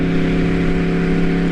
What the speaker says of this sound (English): Can't get over the exhaust note, man.